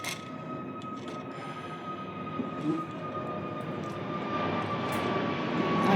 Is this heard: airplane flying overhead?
yes